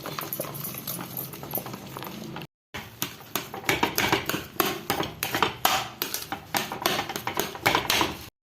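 Semolina being stirred in a pan for rava kesari, a rapid run of close scraping and clinking strokes from spoon against pan, steady and rhythmic after a brief pause.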